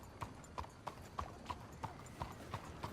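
A horse in Red Dead Redemption 2 walks along with a steady, even clip-clop of hooves, roughly three beats a second, heard faintly under a bed of ambient noise.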